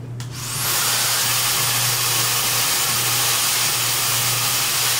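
TYMO new generation hair dryer switching on and running, a steady broadband blowing whoosh with a low motor hum that holds level and fairly loud for several seconds, no talking.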